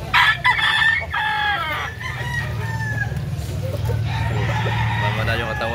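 Roosters and chickens at a chicken sale in Cebu: a loud close crow opens, followed by further crowing and clucking over a steady low background hum, with someone talking intermittently.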